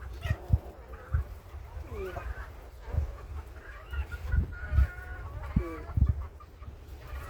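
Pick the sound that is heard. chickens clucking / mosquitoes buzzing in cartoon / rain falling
chickens clucking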